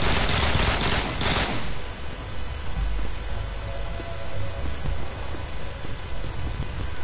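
Gunfire from the Call of Duty Modern Warfare 2 video game: a dense, loud burst of rapid shots in the first two seconds, followed by a continuous rumbling wash of game noise and distant firing.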